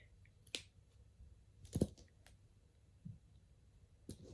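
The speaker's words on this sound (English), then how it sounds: "I have to switch scissors, get some more heavy duty ones." Heavy-duty scissors cut material for a handmade needle book, giving a few quiet, sharp, isolated snips and clicks spaced apart over near silence.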